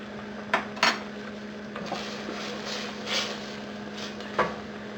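Mixed seafood in coconut milk being stirred in a pan, with a few sharp utensil clinks against the pan over a steady low simmering background.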